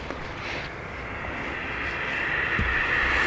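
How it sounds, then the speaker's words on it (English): A Ryanair jet departs Dublin Airport for Naples, heard as a faint, distant, steady engine rumble and whine that swells slightly toward the end, with a brief low thump near the close. "Ryanair off to Naples"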